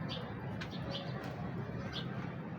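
Soft cooing from an original-breed pigeon in a loft, with low repeated coos over steady background noise and a few faint chirps.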